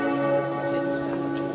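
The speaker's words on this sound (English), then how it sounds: "The plan was to silence the bells at the historic Strasbourg Cathedral in France." Church bells ring at the historic Strasbourg Cathedral in France, a sustained, steady peal of overlapping tones held at moderate loudness throughout, with no talk.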